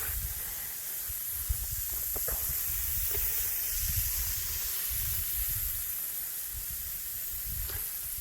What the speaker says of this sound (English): I let it go until they stop spraying water, then I go to the next zone